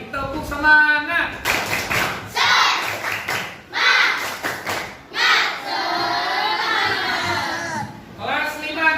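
A rhythmic spirit clap by schoolchildren of class 5D in a classroom, loud and near: repeated bursts of patterned group clapping alternating with shouted chanting, with a teacher calling out between rounds.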